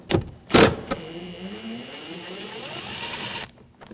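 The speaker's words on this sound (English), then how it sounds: "Now we're going to take these screws out. Use a T20 socket." A ratchet driven by a T20 socket backs screws out of a 2007-2013 BMW 328i rear door panel, giving a couple of close clicks and then a steady whirring mechanical run with a high whine.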